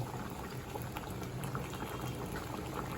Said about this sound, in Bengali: ডাল ফুটে গেছে এবার নামিয়ে নেব